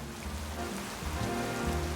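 Rain falling in Pokemon Legends Z-A, a steady dense patter on surfaces over a low game music or ambient bed, continuous and even throughout.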